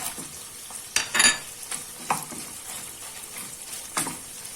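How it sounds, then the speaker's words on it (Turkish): Onions hit chopped meat that is already browning in a pan, sizzling steadily while a utensil stirs and scrapes in several sharp bursts, close up and without speech. "kavrulan etlerin içerisine şimdi soğanlarımı alıyorum"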